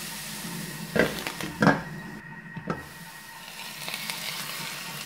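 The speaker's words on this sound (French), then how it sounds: "On laisse revenir un petit peu avant d'introduire l'ail et la viande hachée." Diced celery sautéing in a pan, a steady sizzle broken by a few loud spoon or utensil knocks against the pan, then softer stirring.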